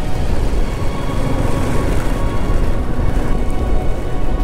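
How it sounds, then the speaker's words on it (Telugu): Heavy rain pouring down in a forest, a dense, loud and unbroken hiss and roar that holds steady throughout with no voices. "ఇక్కడ వాన ఎక్కువైంది వచ్చి."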